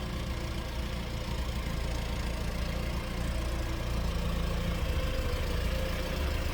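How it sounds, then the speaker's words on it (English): A 1974 Chevrolet Vega Kammback wagon's 140 cubic inch four-cylinder engine idles steadily at close range, a constant broadband rumble with no voices over it. "Flip around to the back so you can hear that 144 cylinder run."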